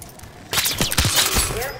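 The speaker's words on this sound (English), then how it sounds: "You hearing gunfire?" Gunfire in the video game Call of Duty Black Ops 6, heard as a dense, loud run of rapid shots that begins abruptly partway through and continues steadily to the end.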